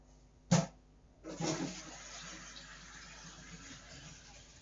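A household toilet flushes: a sharp click of the handle, then a rushing swirl of water that settles into a steady, quieter refill hiss, close and alone.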